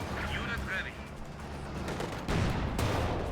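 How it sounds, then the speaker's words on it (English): A Panzer IV tank cannon firing in a WWII strategy game, a heavy boom landing late amid battle noise, with a commentator talking excitedly throughout. "Here comes the Panzer IV to save the day with a big shot in first time."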